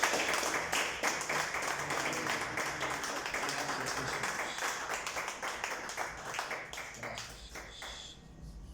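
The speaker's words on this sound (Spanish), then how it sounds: "Den un fuerte aplauso" A church congregation claps at the end of a sermon, a steady wash of applause that holds for several seconds and thins out near the end, with a voice speaking briefly over it.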